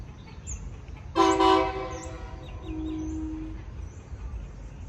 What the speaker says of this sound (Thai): ที่รถดีเซลรางเดวูเข้ามายังสายนครศรีธรรมราชนะครับ